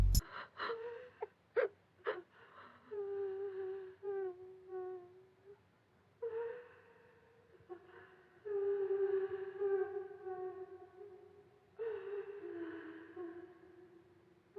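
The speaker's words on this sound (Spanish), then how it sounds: "Llantos se escuchan por los pasillos, más tétricos que los de una madre llorando por sus hijos" A woman's wailing, moaning cry drifts through the corridors in a horror film, drawn-out sobbing tones rising and falling over about fifteen seconds with short pauses between breaths, eerie and fairly faint.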